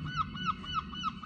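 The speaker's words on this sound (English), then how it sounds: "He's annoying, that seagull" A seagull perched on a roof calls in a series of four repeated squawking honks, evenly spaced and fairly close.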